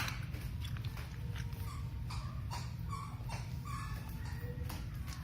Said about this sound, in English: She was coughing and retching.